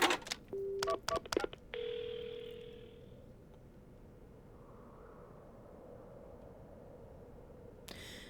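In a Square Enix video game, a phone is dialed to call an ambulance: a quick run of keypad tones and beeps, then a steady dial tone that fades into a low background hum. The sound is faint and has no talk over it.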